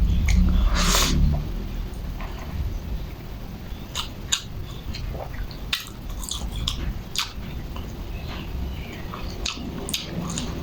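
Close-up chewing and crunching of latiao, a spicy Chinese gluten-strip snack, eaten mukbang-style, with steady soft mouth noises and a few sharp clicks throughout, and no talking.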